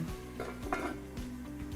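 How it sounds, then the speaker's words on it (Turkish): A metal lid is set onto a cooking pot on the stove while potato oturtma cooks, giving several light clanks and clinks at close range, with no talking. "hemen tencerenin kapağını kapatıyorum"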